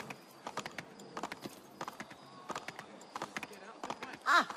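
Rhythmic hoof clip-clops of a galloping horse in Assassin's Creed 3, steady and close, with game sound effects over a faint background.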